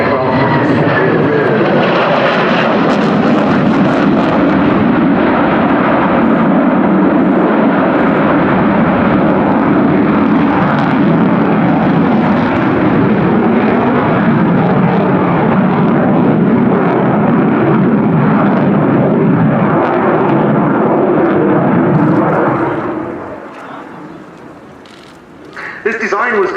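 A Sukhoi jet fighter taking off at the Royal International Air Tattoo at Fairford, a loud sustained roar of engine thrust that dominates for over twenty seconds before fading, with a commentator talking over it.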